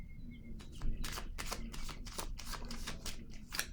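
Tarot cards are shuffled and handled close up: a quick run of crisp riffling flicks and soft slaps over a few seconds, with a faint chirp early on and no speech.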